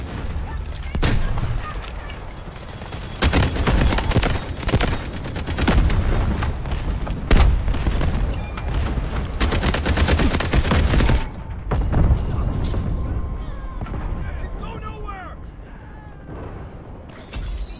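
Loud artillery explosions and dense gunfire in the Delta Force video game, with heavy booms and rapid bursts filling most of the stretch, then fading to sparser shots near the end, with radio-style voice lines over the battle.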